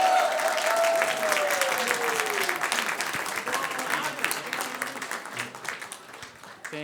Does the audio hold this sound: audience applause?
yes